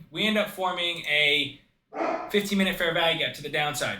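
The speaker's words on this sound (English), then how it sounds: "Sorry for the dogs barking." Dogs barking in the background, a couple of short barks and yips sitting under someone speaking steadily throughout.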